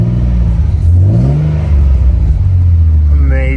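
A Nissan 300ZX engine, freshly revived and cold with dry lifters, revs up and falls back in a smooth rising and easing sweep, then settles to a loud steady idle close by, with a voice briefly over it.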